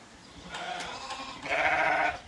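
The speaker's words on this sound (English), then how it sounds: "Melissa, that is a black sheep" A black sheep at a shearing event bleats, first a few short wavering calls, then a longer louder bleat, heard close by against a quiet background.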